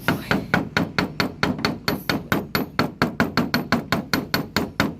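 Rapid, steady hammer taps, about four per second, sharp and close, punching holes in a paper gasket, with no voices.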